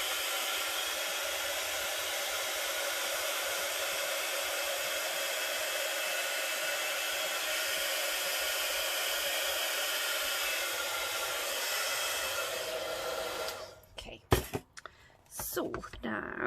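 A heat tool blows a steady, loud whoosh of hot air for about 13 seconds while embossing powder is melted on a mixed media Christmas craft canvas, then switches off into a few clattering knocks and handling noises.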